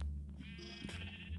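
A sheep bleats in the Minecraft video game: one close, clear, wavering bleat that stands alone.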